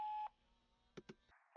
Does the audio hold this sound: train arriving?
no